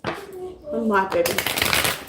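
Tarot cards riffled and shuffled by hand in a quick burst of papery flutters, close up, with a voice talking over the start before the crisp shuffling takes over.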